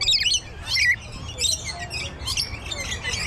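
Several birds at Brevard Zoo squawk and chirp in quick, overlapping bursts close by, shrill repeated calls over a low outdoor rumble, with no talking.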